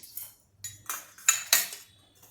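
Metal spoon scooping cumin seeds for Maharashtrian metkut, a few separate light clinks and rattles of seeds against metal, close and quiet with gaps between.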